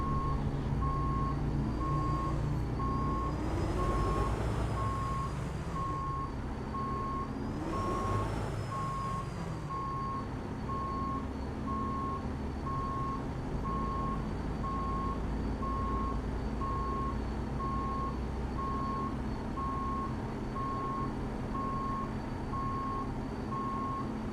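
Steady, loud truck reversing beeps from a big rig backing into a loading dock in American Truck Simulator, repeating evenly over a continuous engine drone, with two brief hissing air bursts early on and no talking.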